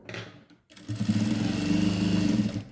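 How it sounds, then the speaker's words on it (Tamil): A sewing machine stitches ribbon along a lined skirt, with a brief whir, a short pause, then a steady close mechanical buzz running for about two seconds. "நாடாவை நம்ம இதே போல் வச்சு க்ளோஸ்டாக ஒரு தையல் போட்டுக்கிட்டே வரலாம்"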